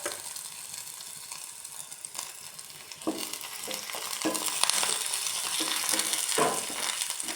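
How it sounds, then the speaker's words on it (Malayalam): Onion and garlic fry in hot oil in a pan, with a steady broadband sizzle and occasional scraping stir strokes that grow a little louder and busier toward the end; no talking. "ഉള്ളി, വെളുത്തുള്ളി നോക്കി വരട്ടെ."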